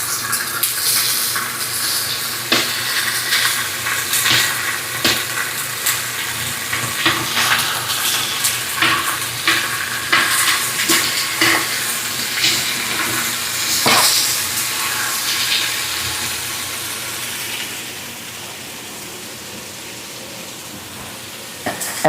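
Steady crackling sizzle of chicken frying in a hot pan, with scattered pops and spatters, continuous throughout and fading slightly toward the end.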